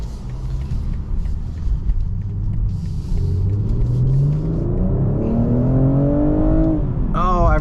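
A 2023 BMW M240i with all-wheel drive accelerates at full throttle, its engine note rising steadily in pitch through the gears from inside the cabin, loud and continuous with a brief shift near the end.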